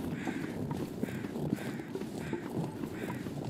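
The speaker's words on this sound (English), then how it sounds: "Some crows." Crows caw in The Long Dark video game, a series of raspy calls repeating at a steady rhythm, fairly faint and distant over a low ambient background.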